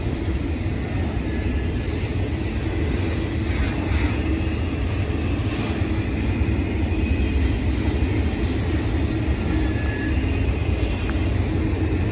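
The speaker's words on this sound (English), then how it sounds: "This one's for you, graffiti freight train." Union Pacific auto rack freight train with graffiti-covered cars rolling past at Reno, Nevada on the Nevada subdivision, a steady, loud, continuous low rumble with broadband rail noise throughout, close by and without talk.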